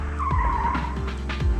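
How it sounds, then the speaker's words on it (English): A 1987 BMW's right front tire squeals under braking in a turn, a wavering tonal screech lasting over a second above steady road and engine rumble, loud and close with no talk. "If you do it just on the money, actually the right front tire will make more noise than the rest of the car."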